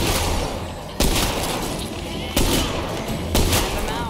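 Gunfire in the zombie video game State of Decay 2 comes as loud close bursts, with three sharp volleys landing over dense, continuous game noise.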